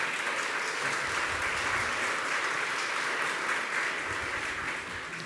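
Steady applause from an audience at a city swearing-in ceremony, a dense continuous wash of clapping that holds at even strength for several seconds and fades slightly at the end, with no voices.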